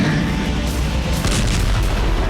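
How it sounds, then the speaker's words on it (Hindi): Explosions in Belgorod during the Russia–Ukraine war make dense, heavy booms and rumbling blasts, loud and continuous over a brief stretch with no voices. "बेलगोरोद में फिर धमाके हो रहे हैं"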